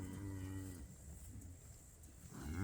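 Cattle on a ranch pasture moo twice: one low, drawn-out call at the start and another rising at the end, with quiet outdoor air between them.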